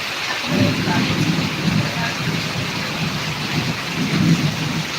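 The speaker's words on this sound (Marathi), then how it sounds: "भयंकर असा पाऊस होत आहे मित्रांनो अतिवृष्टी होत आहे" Heavy, torrential downpour in Karnataka during extreme monsoon rainfall, a dense steady roar of rain with low rumbling swells of thunder rising and falling throughout.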